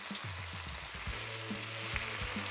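Potatoes frying on a hot plate in the survival cooking game Cooking Simulator Shelter, a steady broadband sizzle with low thumps and bumps from the pan throughout, close and fairly quiet, with no voices.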